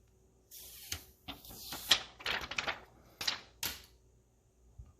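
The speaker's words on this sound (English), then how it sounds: "Let's peel off this plastic, see what we're working with." Crinkly plastic film peeled off a new Samsung Galaxy Note 10+ phone in several raspy, crackling pulls, close and fairly quiet, with brief pauses between them.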